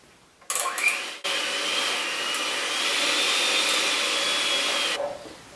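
An electric mixer beats lemon pound cake batter in a home kitchen, giving a steady, close whirring motor drone that runs for about four seconds after a brief start-up burst. There is no talking.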